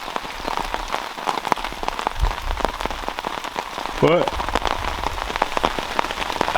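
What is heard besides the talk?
rain falling on a tarp at a cottage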